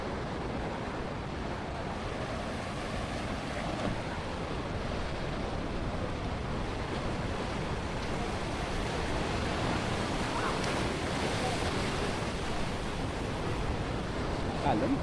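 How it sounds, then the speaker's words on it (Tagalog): Steady roar of ocean surf breaking at a Siargao surf beach, a continuous wash of waves with some wind on the microphone, no clear talk. "Alon."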